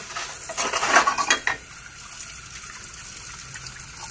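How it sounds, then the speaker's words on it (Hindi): Dishes and utensils washed with water in a village household after a meal and tea. Metal pots and plates clatter loudly for a second or so, then fade to soft trickling water and light handling. "अभी सारे जो है ना धो लेते हैं बर्तन इधर रख के"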